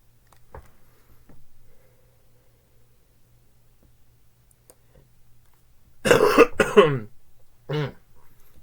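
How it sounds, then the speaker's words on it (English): A few faint clicks and shuffles, then a short burst of loud, harsh coughing, followed by one more brief cough. "I'm up here coughing up cold and junk."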